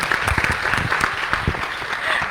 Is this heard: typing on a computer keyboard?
no